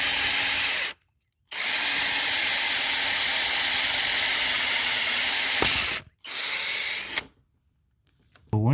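A power drill boring a mounting hole for a rain cover on a Honda Rancher ATV, whining loud and close in two long steady runs broken by short pauses, then a final brief burst.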